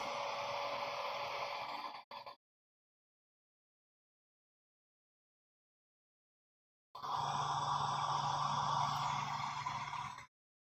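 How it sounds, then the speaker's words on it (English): A steady, broadband whoosh of a hair dryer blowing for about two seconds, then silence, then the dryer running again for a few more seconds. "Hair dryer time."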